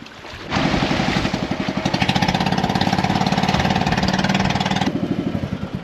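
A steady, loud motorboat engine chugs with a rapid regular pulse, starting abruptly and running continuously, close by.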